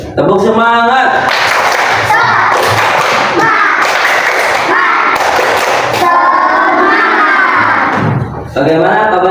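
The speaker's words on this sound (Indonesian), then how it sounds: "Tepuk semangat." Schoolchildren perform the rhythmic 'tepuk semangat' spirit clap, loud, regular bursts of group clapping mixed with chanted voices, filling the room for most of the stretch.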